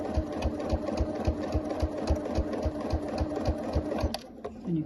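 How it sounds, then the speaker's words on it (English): Domestic sewing machine stitching at a steady pace, its needle producing a regular rapid thumping under a motor whir, close and clear, stopping briefly near the end. "And then you just start sewing. And I can speed the machine up."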